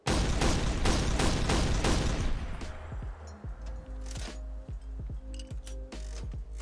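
Heavy weapon mod in Fallout 4 firing with a Gatling laser animation: a loud, fast stream of shots for over two seconds, then a quieter stretch of clicks, clinks and mechanical spin-down sounds.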